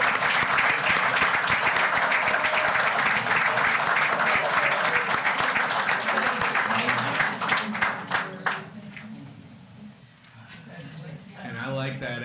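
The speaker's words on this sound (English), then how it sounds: "let's give them a round of applause as well" Audience applause at a board of education meeting honoring staff, dense and steady for about eight seconds before dying away, followed by a speaker resuming.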